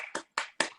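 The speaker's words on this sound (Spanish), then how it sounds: "le damos un aplauso grande a Patricia" Three separate, fairly faint hand claps with short pauses between them, sounding like a lone participant in an online Zoom talk on circular economy applauding the speaker, Patricia.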